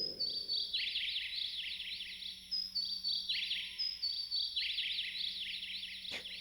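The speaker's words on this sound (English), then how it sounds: "And we also got Tweety Birds." Synthesized bird tweets from a Technics keyboard sound effect, repeating bursts of rapid high chirps in a steady rhythm over a faint low hum, with no talking.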